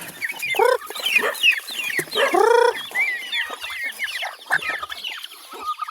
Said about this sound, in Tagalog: Dami dun yung mga sisiw.